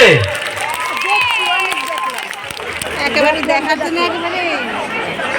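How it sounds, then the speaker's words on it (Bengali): An outdoor crowd at a fan event claps and cheers with a TV serial actor, steady applause mixed with excited chatter and shrieks, and voices talking over it. "একটু জোরে হাতে তালি হোক না সকলে"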